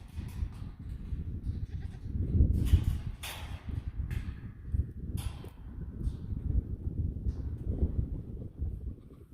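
Alpine Oberhasli mix goats bleating in a pen, several drawn-out cries rising over steady low rumbling and wind noise, close to the microphone.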